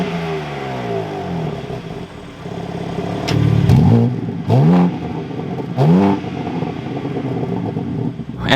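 A 2024 BMW M3 Competition engine idles roughly, then blips sharply in three quick revs close by, each rising and falling fast, with no talk.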